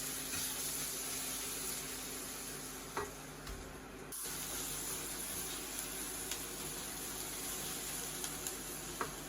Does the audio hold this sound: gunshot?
no